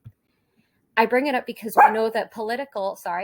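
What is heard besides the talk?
dog barking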